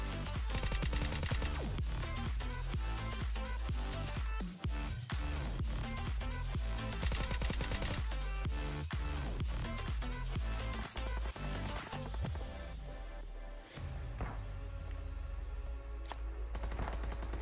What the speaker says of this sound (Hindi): VSS ऐसी गन है कि इसकी साउंड भी ऐसी आती है कि पता नहीं चलता कौन कहां से चला रहा है